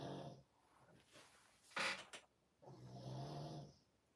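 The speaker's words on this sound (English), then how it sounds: "Should I include some pug snoring in that?" Pug dog snoring close by in two rough, rasping snore bursts separated by a short snort, with no talking.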